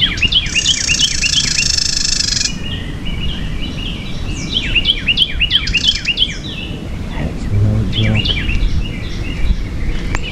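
Wild birds chirping steadily outdoors at Anastasia State Park, Florida, several overlapping tweets and trills, fairly loud and close, over a constant low rumble of ambient noise.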